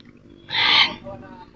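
A single short bird call, a bright burst lasting under half a second, rises over quiet outdoor background noise on a rural road in Mindoro, Philippines.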